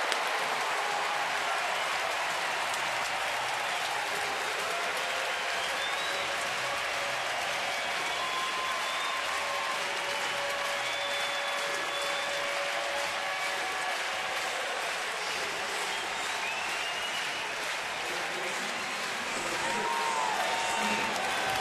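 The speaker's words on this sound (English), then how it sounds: "And the bullpen with a cheer for the home run." A baseball crowd at a night game in Baltimore cheers and applauds after a two-run home run, a steady, broad wash of applause and crowd noise that swells slightly toward the end, with voices talking over it.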